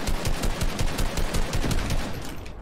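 Rapid bursts of automatic gunfire ring out in a Fortnite Winter Royale match, loud, close and steady, with no voices over them.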